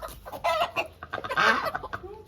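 Chickens cluck and a rooster calls in a home garden, several birds sounding close by in overlapping bursts with no talk.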